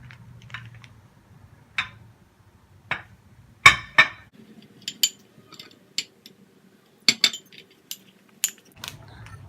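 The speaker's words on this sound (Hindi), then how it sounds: "इसको हम मिक्स करेंगे रोज वाटर के साथ" Gram flour powder being mixed with rose water in a bowl, heard as sparse, sharp clinks and taps of a spoon against the bowl, scattered irregularly over near silence.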